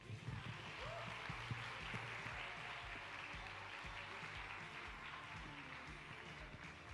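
An indoor audience at a Festival of Nations event applauds with a steady, even wash of clapping. It stays fairly faint and distant over a low background hum throughout.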